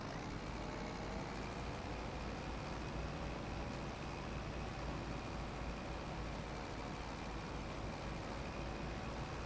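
Tractor engine straining under load while pulling in Farming Simulator 25, a steady loud drone with a slight rise as it hunts for gears, no voices.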